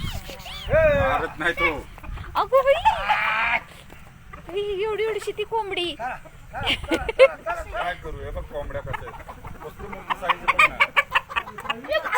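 Village chickens and a rooster clucking and calling around a yard, repeated clucks and squawks under ongoing conversation.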